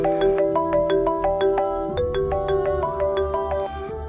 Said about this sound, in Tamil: என்ன ஃபோன் அடிக்கிற சவுண்டு கேட்குது?